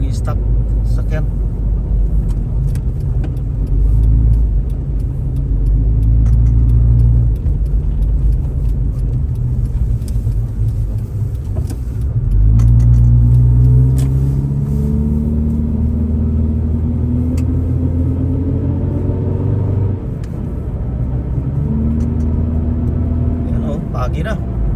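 Car traffic crawls along a snowy road, a steady low engine rumble and road noise filling the whole stretch, with a voice talking over it throughout.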